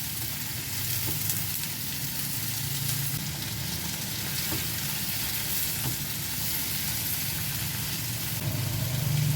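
Carrots sizzle and sauté in a pan for a homestyle beef semur, a steady close frying hiss that carries on without a break, with faint stirring and no speech.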